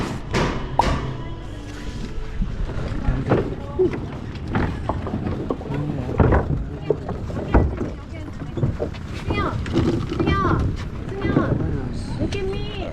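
A boat ride on water with irregular hull thumps and knocks and a low rumble, heard under ongoing conversation from people on board.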